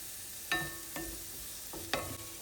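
Green onions sizzle in a pan, a faint steady hiss broken by a few clinking stirs of a utensil against the pan, with no talk.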